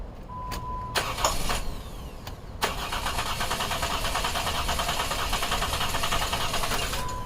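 A 2011 Jeep Wrangler with the 3.8L engine cranks over with a misfire and camshaft codes, a few brief clicks and starter whirrs, then a steady, close, fast rhythmic cranking drone that continues without catching.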